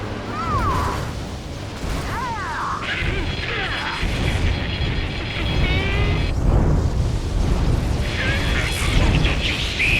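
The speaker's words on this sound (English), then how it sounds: "Confirming explosions. The rail cannon's been destroyed." A rail cannon is destroyed in the Ace Combat 7 video game with heavy rumbling blasts and crashing debris. Game effects sweep and chirp through the din, and voices talk over the noise throughout.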